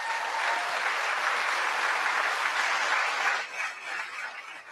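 Audience applause fills the space as dense, loud, sustained clapping that thins and fades toward the end.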